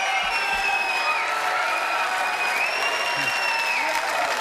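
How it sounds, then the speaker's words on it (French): Studio audience applause on a French television programme, steady clapping held at an even level throughout with a sustained tonal hum running beneath it. "Je pense que vous applaudissez auparavant la présidence du jury, donc tenue par Nina."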